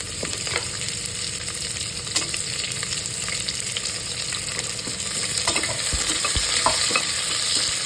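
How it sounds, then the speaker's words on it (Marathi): Sliced onion sizzles steadily in a hot pan for a soybean pulao, with frequent scraping and clinking of a spoon stirring it through the oil, close and continuous. "उभा चिरलेला कांदा उभा चिरून घेतलाय मी तो टाकायचा"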